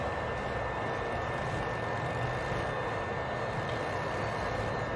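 A motorcycle engine running steadily in the post-apocalyptic game Days Gone, a continuous loud droning hum with no breaks.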